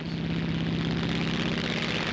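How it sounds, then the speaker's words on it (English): Propeller airliner engines drone steadily in flight, a loud continuous hum with a strong low tone holding for the whole moment. "Not even the gentle scraping of a skyscraper can disturb the soothing lullaby of the plane's engines."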